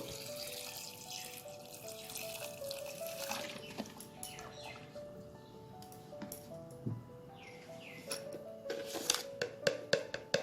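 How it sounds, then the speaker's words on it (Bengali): Water poured into chickpeas in a pressure cooker for chana masala, a faint, steady splash and trickle with light metallic clinks and drips building toward the end, and no voices over it. "জল দেব।"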